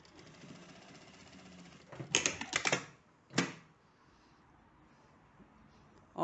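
An industrial topstitching sewing machine stitches the lined edge of a bikini top in two quick bursts of rapid clattering needle strokes, loud and close, separated by a near-silent pause.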